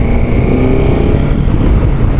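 A 2024 Suzuki GSX-S1000GT motorcycle is ridden at steady speed, its engine droning loudly and continuously under strong wind rush, with no distinct gear change standing out.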